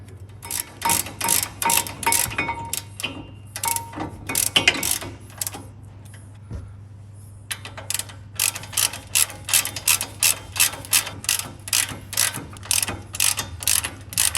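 A ratchet clicks in rapid bursts of sharp ticks while a brake bolt is run in on a Ford Ranger. The bursts come in two runs with a short pause between them, over a low steady hum.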